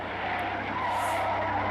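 Car tyres skid on a street with a brief, steady squeal layered over broadband road noise, loud and close, with no voices.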